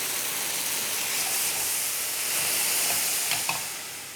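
Water hits a hot pan of frying stuffed tofu pouches (aburaage), producing a loud, continuous, steamy sizzle and hiss that holds steady with a slight swell near the end.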